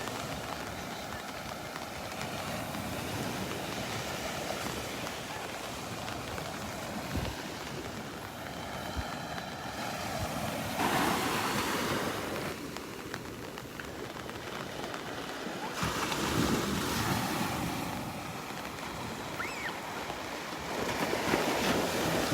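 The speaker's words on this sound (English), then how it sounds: "Love watching the little waves curling along the beach." Small waves curl along a beach in North Naples, Florida, ahead of Tropical Storm Elsa, a steady washing surf with periodic swells of louder breaking, heard alone without talk.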